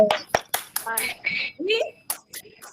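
Schoolchildren perform the PPK clapping chant in a classroom: sharp, close handclaps in short rhythmic bursts alternating with their chanted words.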